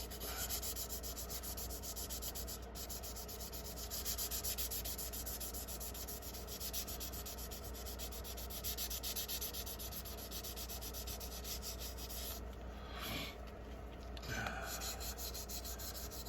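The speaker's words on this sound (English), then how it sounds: "Make sure you get everything sanded down real smooth on this." Steady, continuous rubbing of sandpaper over a plastic model kit car body, a 1979 Daytona 500 stock car, scratching close and even throughout with a few brief louder strokes near the end.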